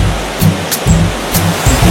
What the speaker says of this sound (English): Here we have one of the 7 beautiful waterfalls in Gawahan Ecology Park